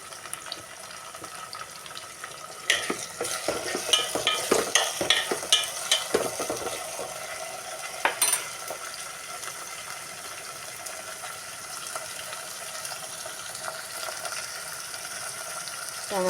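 Chopped tomatoes tipped into a pan of frying onions, giving a burst of sizzling and stirring scrapes that settle into a steady low frying hiss, with a faint tap-water sound mixed in.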